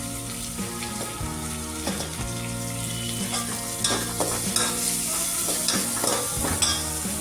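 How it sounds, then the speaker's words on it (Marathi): Chopped onion, ginger, garlic and curry leaves fry in a pan with a loud, continuous sizzle and repeated stirring scrapes; a faint steady tonal hum runs underneath. "कढीपत्ता पण टाकून घेऊ छान असं त्याला थोडंसं लाल कलर येईपर्यंत भाजून घ्यायचं"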